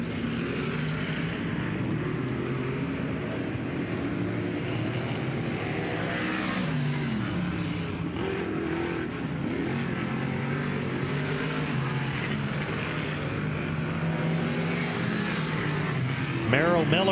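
Dirt-track race cars run hot laps at Grandview Speedway, their engines droning and rising in pitch as they circle, heard steadily under an announcer's voice, with one car swelling close near the end.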